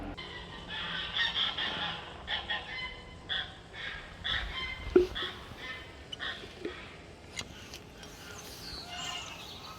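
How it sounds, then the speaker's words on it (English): Goose honking at around 5:15 in the morning outdoors near a hedge, several short separate calls scattered over background ambience, moderately distant, with no talking. "That's a goose"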